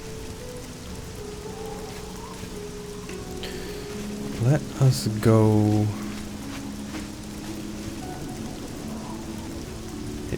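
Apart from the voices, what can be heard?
rain falling in the video game Elder Scrolls Oblivion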